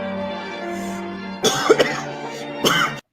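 A woman coughs and clears her throat in short bursts, heard as playback from a video, several brief harsh coughs over a steady background hum.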